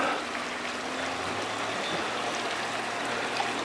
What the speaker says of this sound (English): Notice how they use bamboo to grab the water and then spill it at an angle down into that box.